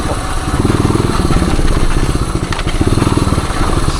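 A 1978 Suzuki DR370 dirt bike runs close by. Its single-cylinder engine putters steadily with rapid, even firing pulses, fairly loud and clear, and no talk is heard over it.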